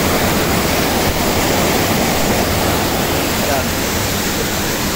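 Water rushes strongly through a concrete canal, a loud, steady close-up roar filling the scene while someone speaks briefly over it.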